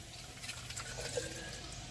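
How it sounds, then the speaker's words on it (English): Water poured into the top of a pitcher pump to prime it after new seals were fitted, a soft faint splashing trickle heard alone. "We are going to put a little bit of water into the top"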